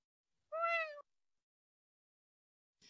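A human voice imitates a cat, giving one clear, drawn-out meow of about half a second, followed by silence and a faint brief noise at the end.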